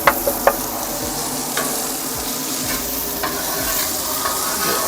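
Onions frying and being stirred on a Blackstone griddle, a steady close sizzle with a few sharp scraping clicks of a spatula at the start.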